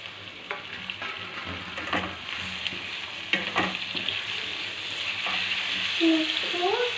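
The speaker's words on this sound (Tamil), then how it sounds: "இப்போ இந்த ஸ்டேஜில் வந்து நம்ம டொமேட்டோ சேர்த்துக்கலாம்." Tomatoes are stirred into a frying kara kuzhambu base, with repeated close scraping stirs over a continuous sizzle that grows slightly louder toward the end.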